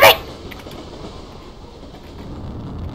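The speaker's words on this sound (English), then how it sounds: "Stop the train! Stop the train!" A video game train rumbles along its track with a steady low rolling drone and faint rhythmic clatter, a sharp burst at the very start, continuous and fairly close with no talk.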